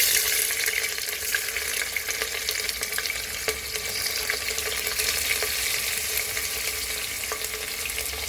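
Onion hits a hot pan for mutton pulao with bay leaf already in the oil, setting off a loud, dense, continuous sizzle with a few faint clicks and no talking.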